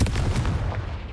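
A Confringo spell blast goes off in Hogwarts Legacy, a loud, dense burst of explosive energy that rolls on for about a second before easing off.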